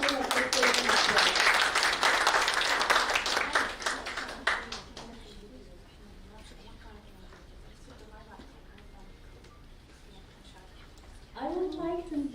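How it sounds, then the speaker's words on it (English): A big burst of audience applause at a women's entrepreneurship conference in Ras Al Khaimah, loud and dense for about five seconds, then fading to sparse claps and murmur before someone speaks over a microphone. "A big round of applause."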